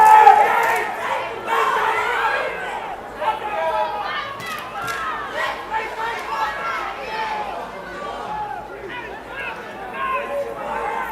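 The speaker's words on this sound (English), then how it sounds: "They ain't short of a crowd." A large crowd of fans at a 12U youth football game between the Yellow Jackets and Bulldogs, a steady babble of chatter and shouts with nearby voices talking over the crowd noise throughout.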